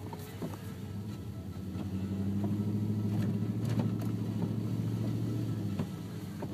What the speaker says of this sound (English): Just kind of give you guys interior sound of the muffler as well.